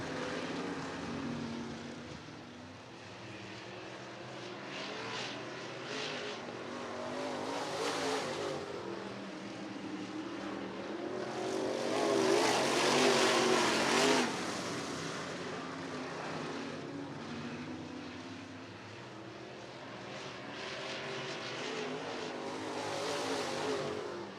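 Late model race cars roar around Cottage Grove Speedway, a continuous engine drone rising and falling as the pack passes, loudest in a swell near the middle, heard from a distance across the track with no speech.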